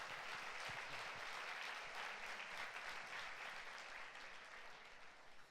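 A church congregation at a worship gathering applauds for the Lord Jesus, a continuous, fairly distant crowd clapping that holds steady throughout and sounds soft and diffuse.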